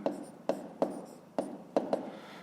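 Pen writing out a fifth-grade maths solution by hand on paper: crisp, close taps and short scratchy strokes, about six of them in an uneven rhythm, with nothing else to be heard.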